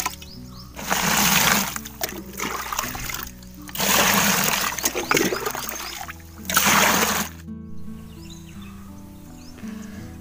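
Water poured into a drum holding ash to make liquid fertilizer, heard as three loud splashing, gushing bursts separated by short pauses, close by, with faint background hum.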